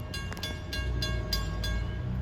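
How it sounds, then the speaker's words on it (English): A Long Island Rail Road M9 train on the Ronkonkoma Line passes the Clinton Street grade crossing in Farmingdale, a loud, close rumble with rhythmic clanking wheel beats over the rails. "the gates are going down on Clinton Street for train 1931, Ronkonkoma to Penn Station with M9s"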